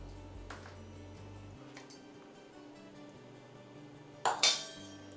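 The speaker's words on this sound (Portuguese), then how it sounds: "E vai mexendo nela assim, ó, com a manteiga gelada" A spoon stirs mushroom risotto with cold butter in a pan: quiet, soft scraping near the cook, then a couple of sharp metallic clinks near the end, with no voice.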